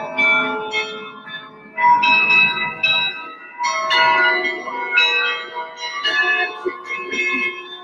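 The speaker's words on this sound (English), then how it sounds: "this clock tower has 50 bells" A clock tower carillon of fifty bells plays a tune, bright struck tones ringing out in phrases with short pauses between them, clear and fairly close.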